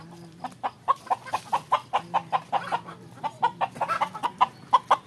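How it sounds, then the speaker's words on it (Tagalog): A rooster of a Chinese native chicken breed clucks repeatedly in quick, rhythmic bursts, close and clear, with a low background hum and no speech. "Ito naman yung aking tandang."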